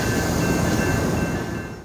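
A train rolls steadily into a station in Brunswick, its engine and wheel rumble close and continuous with a faint high whine above, easing slightly toward the end.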